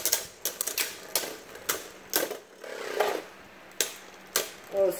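Beyblade tops, Dranzer Auto Changer against Wolborg, clatter and scrape in a plastic stadium, giving a run of sharp, close clicks and grinding bursts with brief quieter gaps between.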